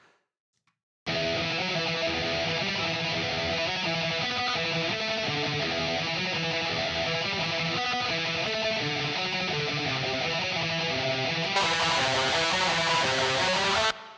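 A heavily distorted electric guitar through a Blackstar Dept 10 distortion pedal, recorded directly without an impulse response, plays continuously, dense and buzzing with a thick saturated tone, loud and steady throughout with no talking.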